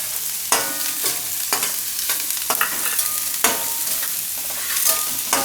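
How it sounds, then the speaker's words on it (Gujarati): Capsicum stir-fried in a pan with onion for Gujarati rotli manchurian, a close, steady frying sizzle with repeated sharp scraping stirs at about one-second intervals, no voices. "હવે એમાં કેપ્સિકમ નાખી દઉં આપણે."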